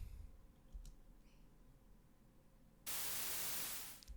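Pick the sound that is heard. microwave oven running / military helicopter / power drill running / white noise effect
white noise effect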